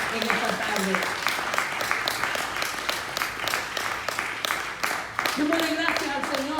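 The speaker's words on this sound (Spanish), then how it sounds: "Denle un fuerte aplauso al Señor en esta tarde." Sunday church congregation giving loud, rhythmic applause, individual claps distinct and close, with a voice speaking over the clapping at the start and again near the end.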